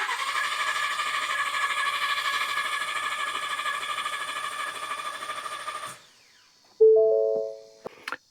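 A Ford Bronco 2.7 EcoBoost engine cranks steadily for about six seconds without firing during an oil prime, a loud even starter whine that cuts off, followed by a brief chime.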